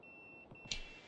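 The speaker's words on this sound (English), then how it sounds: "My pager's beeping." Pager beeping in the video game Yakuza 0, a short, thin electronic tone that sounds briefly and quietly on its own.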